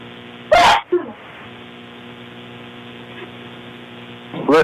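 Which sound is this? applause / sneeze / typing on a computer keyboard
sneeze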